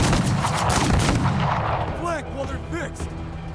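Gunfire from the video game Menace strikes the flank of an armored vehicle, several loud sharp reports over a dense rumbling battle bed, followed by a few distinct ringing ricochet-like shots.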